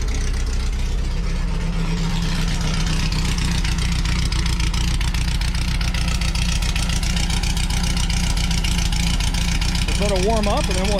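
A Volkswagen Baja engine, just started, settles into a loud, steady idle with an even low chugging pulse close by, and a voice briefly joins near the end.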